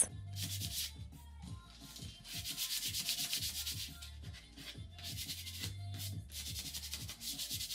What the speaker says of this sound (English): I went ahead and sanded everything